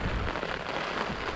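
Rain pours down steadily in Pune, a dense close patter on surfaces that fills the whole moment without pause, with no voices.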